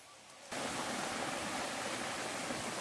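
A forest stream flows as a dense, steady rush of water that starts abruptly after a brief quieter moment and then holds loud and continuous.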